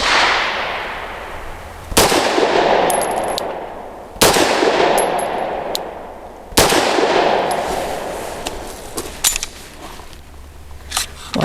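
A Wilson Combat SFT9 pistol fires at a range. Loud single shots ring out at a slow, uneven pace, about three main blasts each followed by a long echoing decay, with a few fainter clicks and pops between them and no voices.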